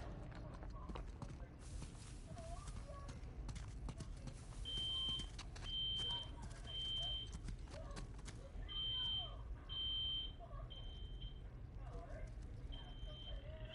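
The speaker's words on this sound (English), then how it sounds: "What's that beeping?" In the video game Uncharted: The Lost Legacy, a high electronic beep repeats in short, evenly spaced pulses, fairly faint beneath footsteps and other game ambience.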